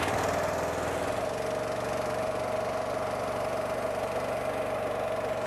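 A Harley walk-behind power unit with a box rake running steadily, a continuous loud mid-pitched engine drone with a faint knocking rhythm, close by and without pauses.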